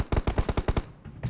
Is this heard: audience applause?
no